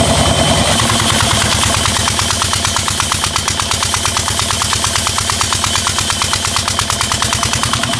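An old engine that gives off heavy smoke runs loud and close, a rapid, even chugging beat that holds steady without pause, with no talking over it.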